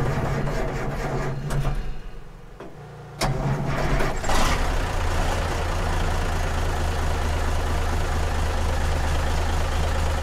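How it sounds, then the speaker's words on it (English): A combine harvester's engine cranks and catches on a farm harvest morning, then settles into a loud, steady running roar. "Got the combine started."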